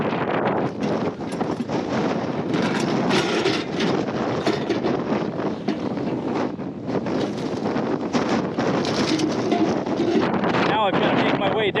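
Strong wind roars across the microphone on a desert mountain summit in the River Mountains near Boulder City, raising dust. The buffeting is loud, close and constant, and it swamps everything else.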